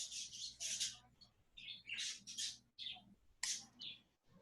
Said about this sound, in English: I swear I hear birds.